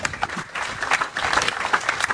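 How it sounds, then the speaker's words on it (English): Crowd at a presidential mine commissioning event applauds, with uneven, lively clapping that swells and dips in bursts, fairly close and loud. "We clap for this part."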